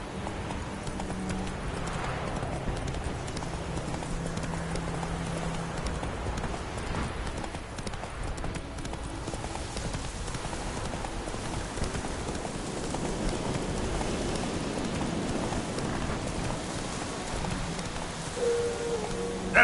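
Roach, Geralt's horse in The Witcher 3, gallops steadily with rapid, continuous hoofbeats for the whole stretch, mixed with game ambience and an occasional whinny.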